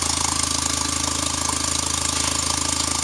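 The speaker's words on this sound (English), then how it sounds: "Exhaust leak way in the back." A 2001 Volkswagen Jetta with a 2.0 engine and automatic transmission, 190,641 miles, idles steadily with an exhaust leak far back in the system, giving a constant loud rumble with a fast, even pulsing throughout.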